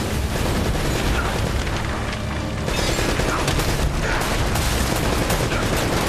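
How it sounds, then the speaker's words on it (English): Rocket launcher fire and explosions from the Uncharted video game form a dense, continuous roar of blasts and gunfire, loud and unbroken throughout with no clear gaps. "Rocket launcher!"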